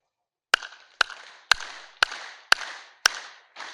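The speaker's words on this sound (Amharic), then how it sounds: "እጃችሁን አጨብጭቡ ይላል ለምስጋና" Worshippers in a church service clap their hands in praise, seven sharp, loud, evenly spaced claps about half a second apart, each ringing briefly in the room, with no talk between them.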